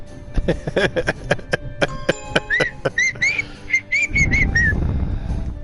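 A person whistles a series of short, sliding high notes. They follow a stretch of rapid clicking or plucked tones, and a broad rushing noise builds underneath toward the end.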